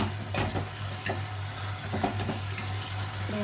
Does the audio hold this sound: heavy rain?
no